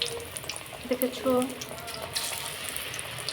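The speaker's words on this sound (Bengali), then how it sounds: "আমি নিজেই ভাজছি।" Potato slices coated in gram flour batter with green chilli, cumin, salt and turmeric fry in hot oil in a wok, giving a soft steady sizzle with a brief voice partway through.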